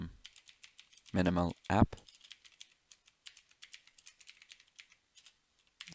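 Light, rapid keystrokes on a computer keyboard as a code comment is typed for a FastAPI Python app, with irregular clicks running throughout and a short stretch of speech partway through.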